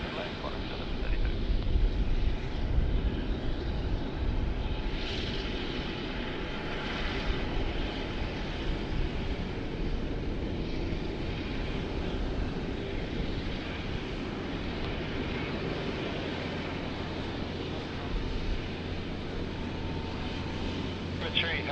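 Fixed-wing airliner landing on runway 34 left at Sydney Airport, a steady broadband engine roar that holds loud and continuous throughout, with faint air-traffic radio talk in the background.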